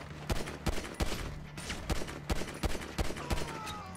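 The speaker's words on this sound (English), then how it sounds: "where am I getting fucking shot from?" Rapid, evenly spaced gunshots crack out one after another in Grand Theft Auto Online, loud and sharp with a steady rhythm and no talking over them.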